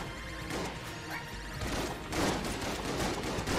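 Shotgun fire in the Enter the Gungeon video game comes as a dense, continuous barrage of crashing blasts that swells louder partway through, with no talking.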